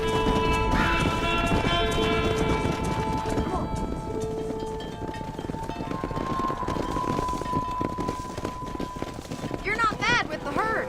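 Galloping horse hooves clip-clopping while riding and herding cattle in Red Dead Redemption, a quick rhythmic patter under game music, with a horse whinny near the end and voices talking.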